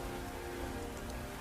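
Steady rain falling in the fantasy video game Skyrim, a continuous dense hiss of drops on surfaces, even and unbroken, with no voices.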